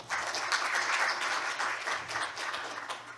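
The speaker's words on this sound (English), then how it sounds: "Please give a welcome applause to Dr. Jeon Young-sil." A room full of people applauding at an international criminology forum, a sustained patter of clapping at moderate distance that holds steady for a few seconds.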